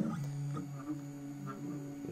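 A home-built CNC milling machine runs a facing program, its stepper motors sending out steady tonal whines that shift pitch as the axes move, fairly quiet and close, with no talking.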